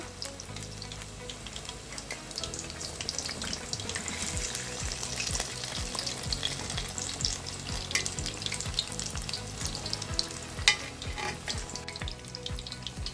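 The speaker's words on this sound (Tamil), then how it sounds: "திருப்பி விட்டாச்சு நல்லா பொறிட்டோம்" Cauliflower pieces frying in hot oil as they are turned over, giving a steady close crackle and sizzle with soft scraping stirs throughout and no voices.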